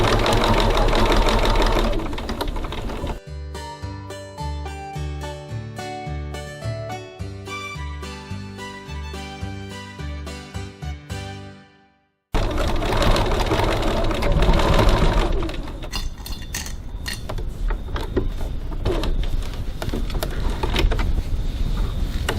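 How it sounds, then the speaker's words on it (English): A sewing machine stitches piping around a foam-backed pocket in a steady rapid run of needle strokes, slowing for a short backstitch and stopping before louder room noise resumes. "and I'm going to baste in place all the way around the pocket. Just going to backstitch a little bit there to make sure it doesn't come away."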